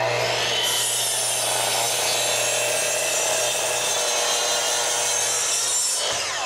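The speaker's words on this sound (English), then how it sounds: "Let me show you how it cuts." Makita 10 or 12 inch slide compound saw cutting through wood, a loud, close, continuous motor whine and cutting rasp lasting several seconds, then winding down, with no talking.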